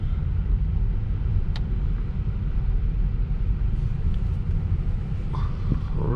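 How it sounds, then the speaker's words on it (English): A Tesla car on FSD 12.5.1.1 drives slowly while parking, giving a steady low road rumble and tyre noise, with a faint click partway through and no talking. "let's park the car."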